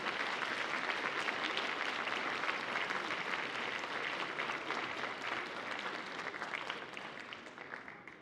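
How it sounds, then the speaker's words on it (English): An audience at an event with the Lieutenant Governor gives a sustained round of applause, many hands clapping in a steady, even roar that gradually softens toward the end. "can we give them another round of applause, please?"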